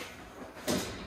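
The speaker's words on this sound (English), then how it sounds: "I simply lower the chair back" The back of a HUMAC NORM dynamometer chair is lowered, giving a quiet sliding swish that ends in one short, soft mechanical clunk.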